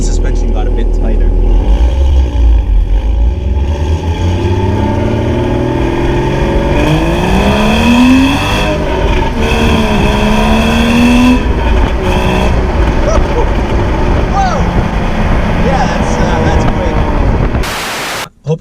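A 2013 Porsche Boxster Roadster in sport mode with its exhaust baffle open, engine note rising and falling through several gears from inside the car, someone talking over it throughout before it cuts off.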